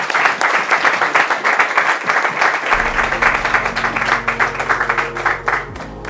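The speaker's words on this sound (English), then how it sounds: "Let's give these ladies a hand clap." A church audience at an open mic reunion show claps for two women after their testimonies, with loud, rapid applause continuing throughout and a low musical tone entering partway through.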